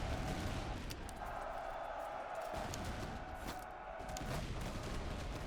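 Infantry of the Russia Observation Corps fire their guns in the Master of Command strategy game, a crackle of scattered shots and volleys over a steady noisy battlefield din, fairly distant and continuous.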